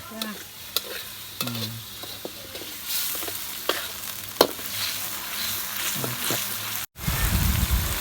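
Chili peppers stir-fry in a pan in a home kitchen, with scraping stirs and soft sizzling close by, occasional clinks of the utensil, and a sudden louder burst of sizzle near the end as liquid hits the hot pan.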